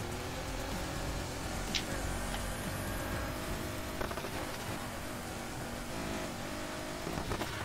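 Ford GT engine in the Need for Speed Heat racing game, a steady loud drone of engine and road noise with a few brief revs and clicks, no voices over it.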